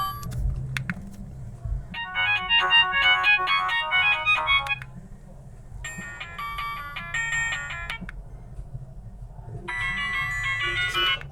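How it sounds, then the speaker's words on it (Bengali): A Symphony L152 keypad mobile phone plays its built-in ringtones, bright electronic melodies in three separate bursts with short quiet gaps between them, loud and close with no talking. "চলুন দেখি যে ফোনটির রিংটোনের সাউন্ড কতটা"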